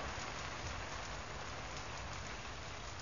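Heavy rain pours outside a house, a dense, steady hiss of drops hitting surfaces that holds at an even loudness throughout with no speech.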